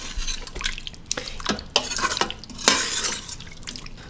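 Braised pork belly sauce simmers in a pressure cooker on saute mode. Soft bubbling pops and drips come close and irregular, with light stirring clinks and no talk.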